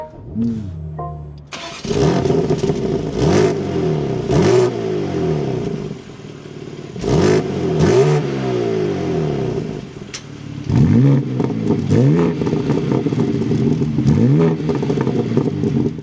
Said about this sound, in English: With my foot on the brake and the clutch, we can bring this to life.